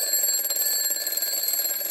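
An Angry Birds alarm clock ringtone plays alone, a bright steady electronic tone ringing at moderate volume for a couple of seconds.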